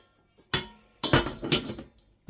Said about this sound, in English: with this car boot set that I found here. Kettle, lid, frying pan.